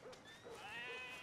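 Sheep bleating in the video game Red Dead Redemption 2, a few wavering bleats in quick succession from a fairly near animal, faint overall, with no speech.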